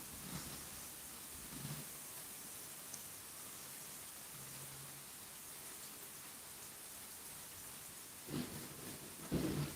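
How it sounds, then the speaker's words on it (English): Steady rain and thunderstorm noise, a dense continuous hiss with a few low rumbles of thunder building near the end, no voices over it. "Kobe's not scared of storms"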